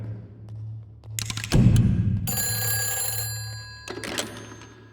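A telephone rings in a horror scene from the film OMG (O Manchi Ghost), a loud electronic ring in bursts separated by pauses, with a thud near the start of the ringing.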